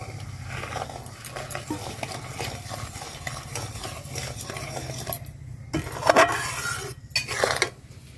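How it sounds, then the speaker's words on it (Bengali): A spoon scrapes and stirs through homemade tomato sauce with vinegar in a cooking pot, a continuous close stirring with clinks of utensil on metal and a faint low hum beneath, with no talk. "বৌদি নাড়ো।"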